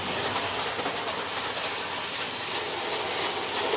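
An O gauge model train runs steadily on its track with a continuous rumbling whir and faint rhythmic clicking, close and unbroken, with no talk.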